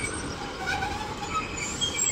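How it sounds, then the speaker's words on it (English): A train rolls through Dawlish Warren station with a continuous rumble of wheels on rail and faint high squeals, heard alone with no talk. "You hear that train is there."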